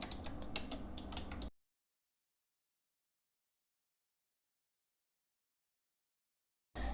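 Computer keyboard keys tapped in quick succession while an SQL INSERT INTO query is typed, a short close burst of clicks that stops abruptly into silence, with a faint return of sound at the very end.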